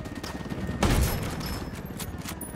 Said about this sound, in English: The HTI, sniper rifle, will take out a helicopter in very few shots.